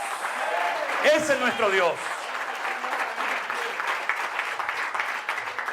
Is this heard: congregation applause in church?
yes